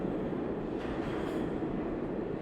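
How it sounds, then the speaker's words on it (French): A metro train rumbles in a steady, loud, dense roar of rolling wheels that holds unchanged throughout, with no voices. "Tout à coup, dans ce métro bombe, le bruit devint assourdissant."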